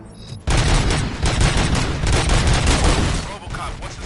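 Rapid bursts of gunfire from the RoboCop video game erupt suddenly and loudly, a dense continuous volley that fades slightly toward the end.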